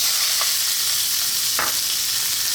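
Strips of chicken breast frying in a pan for chicken fried rice, a steady loud sizzle with two brief stirring scrapes, no talk.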